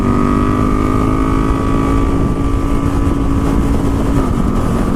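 KTM 1290 Super Duke R motorcycle cruising on the freeway, a loud, steady engine drone with sustained tonal whine and constant wind buffeting at close range, no pauses.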